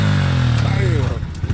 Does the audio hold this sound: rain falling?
no